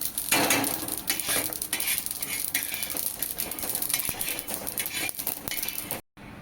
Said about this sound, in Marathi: तीळ सुद्धा जास्त नाही आपल्याला भाजायचे असे चटचट आवाज यायला लागला का लगेच काढून घ्यायचे